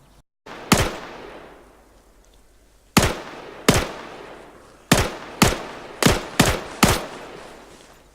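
Gunfire in the ArmA 3 military shooter game: about nine sharp, loud single shots spaced irregularly, some alone and others in quick pairs, each with a short echoing decay and no talking.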